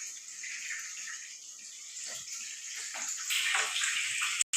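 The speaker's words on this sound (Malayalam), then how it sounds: "നമ്മൾ ഫ്രൈ ചെയ്തെടുത്തതിലേക്ക് നമ്മൾ ഷുഗർ സിറപ്പ് ഒഴിച്ച് കൊടുക്കാം." Warm sugar syrup poured from a pan over freshly fried gulab jamun, a steady close liquid splashing and trickling that swells louder toward the end, with no voices.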